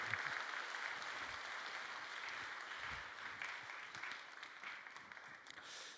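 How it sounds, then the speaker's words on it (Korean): A church congregation keeps applauding during a Sunday worship service, a continuous, soft, room-filling patter of many hands that carries on evenly, with no talking. "박수 좀 더 해주시면 좋겠습니다."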